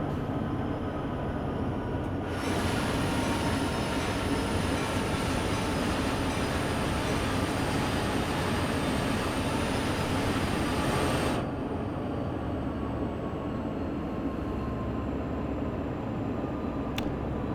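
A diesel freight locomotive in the Train Sim World 2 game on Sherman Hill between Cheyenne and Laramie gives a steady, loud engine drone that drops away sharply partway through as it powers down, leaving a quieter rumble, with no talk.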